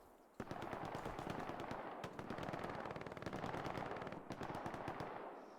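Sustained machine gun fire in the World War II shooter game Hell Let Loose, with rapid overlapping bursts that run almost the whole clip with only brief gaps and no voices.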